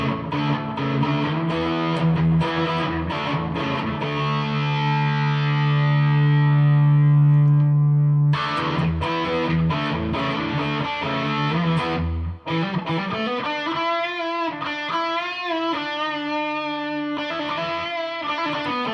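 An electric guitar played through effects pedals with plate reverb rings out loud, distorted sustained notes and chords, then a pause and a run of wavering, pitch-bending phrases, with no talk.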